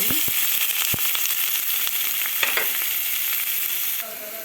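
Onions fry in a pan for potato curry, giving a loud, continuous sizzle with scattered crackles and pops up close. The hiss eases slightly near the end.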